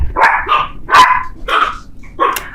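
Dogs barking near an open front door while a boy plays basketball outside: five loud, close barks in an uneven rhythm with short gaps between them.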